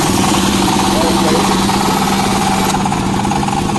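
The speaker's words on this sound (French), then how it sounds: "Nous allons faire un petit essai de démarrage" 18 hp diesel walk-behind tractor engine starting and running, a loud, close, steady rough rumble with dense vibration throughout, easing slightly near the end, with a voice over it.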